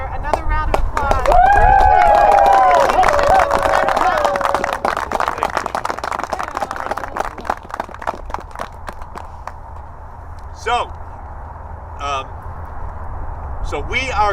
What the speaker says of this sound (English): I just think we should give the senator another round of applause